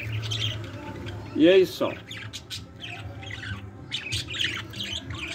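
Budgerigars at the nest give one loud squawk followed by scattered chirps and twitters, nearby, while a person talks briefly over them.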